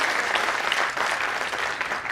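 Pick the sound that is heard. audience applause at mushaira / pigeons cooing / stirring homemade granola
audience applause at mushaira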